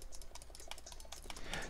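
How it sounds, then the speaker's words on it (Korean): Rapid, faint keystrokes on a computer keyboard picked up by a COUGAR IMMERSA PRO Ti headset microphone, with music playing from a tablet about a metre away as a constant low background. "마이크와 키보드 소리를 동시에 내보도록 하겠습니다"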